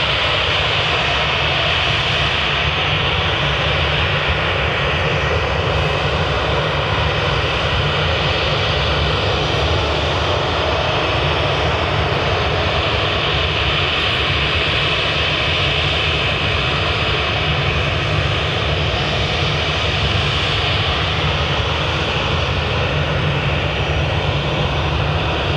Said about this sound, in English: Just coming into land is Brussels Airways Airbus A319.